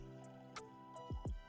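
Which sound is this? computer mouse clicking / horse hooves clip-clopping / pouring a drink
pouring a drink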